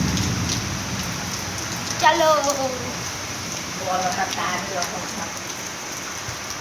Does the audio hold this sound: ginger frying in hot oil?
no